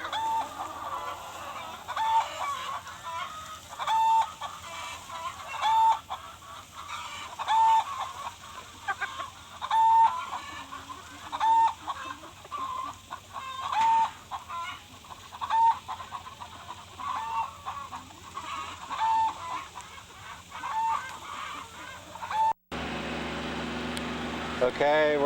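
Chickens cluck and crow steadily through the clip as they are moved to new pasture on a farm. Short repeated calls come close and loud over outdoor background noise, and a sharp cut near the end changes the sound.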